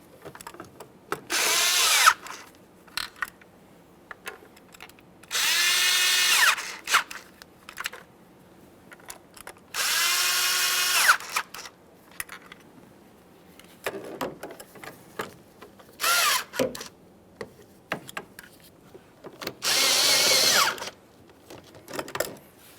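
Power tool snugging the intake manifold bolts on a 2013-2020 Ford Fusion 2.0L I4, running in five short, loud bursts of a couple of seconds each, separated by quiet pauses and small clicks.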